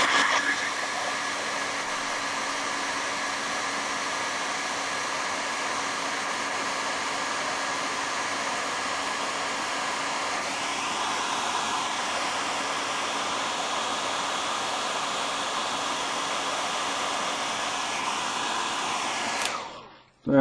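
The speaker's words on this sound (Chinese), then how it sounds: "然后把它吹干，咱们看看效果。" A hair dryer blows steadily at close range to dry paint on a gongbi figure painting of Buddhist subjects, a constant whooshing roar with a slight pitch shift midway, cutting off abruptly at the end.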